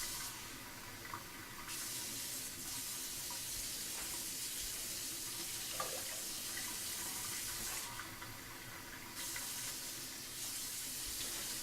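Water runs steadily from a tap into a sink, a constant rushing hiss, with a few faint clinks and bumps in the background. Nobody speaks.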